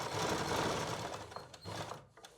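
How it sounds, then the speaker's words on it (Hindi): A sewing machine runs steadily, stitching a pointed neckline on a garment, a close continuous whirring and clatter that slows and stops near the end. "जो शेप है उसी शेप में आपने सिलाई लगानी है।"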